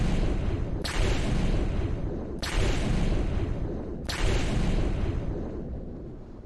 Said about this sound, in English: Wow, he blew up one car!